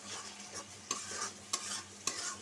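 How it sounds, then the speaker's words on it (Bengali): Katla fish sizzles in a pan on a stove, a faint steady frying hiss with a few soft stirring clinks, and no voices. "আমার মাছটা ওই চুলায় ভাজা হইতেছে"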